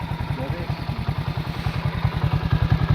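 A new 2024 Honda motorcycle idles close by with a steady, low, rapid thumping beat, while someone talks over the engine.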